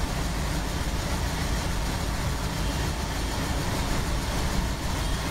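A freight train in Microsoft Train Simulator approaches as a steady, dense rumble and roar that stays loud and even throughout, with no voices.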